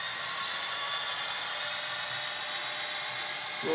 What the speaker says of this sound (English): Little drone action